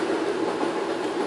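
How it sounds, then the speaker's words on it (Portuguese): A train passes close by with a steady, dense rumble and rattling of rail cars, continuous and fairly loud with no voices. "O trem está passando."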